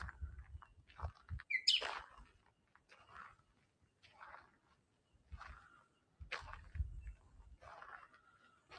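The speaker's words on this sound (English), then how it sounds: "another bird on my right," A bird calling in a forest at Glenrock State Recreation Area in early morning, with short scattered chirps and calls spread over several seconds, faint and fairly distant, alongside soft low rustles and thumps.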